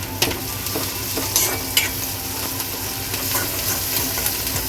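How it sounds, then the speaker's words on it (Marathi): Onions roast in a pan with a pinch of salt, sizzling steadily while a utensil stirs and scrapes them in several distinct strokes, close and fairly loud with no talking. "थोडंसं चांगलं भाजून घेऊया कांद्यामध्ये आपण थोडंसं मीठ टाकून घेऊया"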